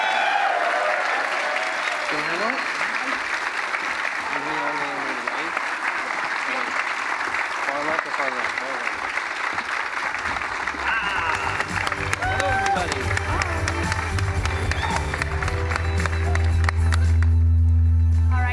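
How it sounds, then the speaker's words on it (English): A crowd applauds the Santa Monica Studio team of God of War at an E3 2017 panel, a loud, sustained wash of clapping and cheering with a bright sustained tone and low rumble rising near the end. "Let's give them a round of applause."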